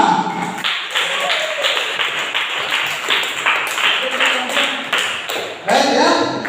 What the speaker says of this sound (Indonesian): Tepuk tangan sekali lagi untuk kelompok